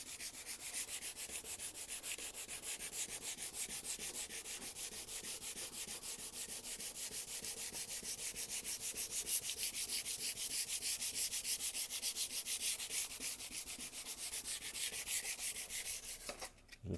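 A car headlight is sanded by hand, with the paint around it masked off, giving a steady, close, rhythmic scratching rub that runs evenly for most of the time and stops abruptly at the end.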